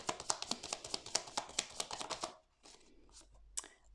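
A deck of personal development cards shuffled by hand in a fast, rhythmic run of close, crisp riffles for about two seconds, followed by softer handling and one sharp card snap.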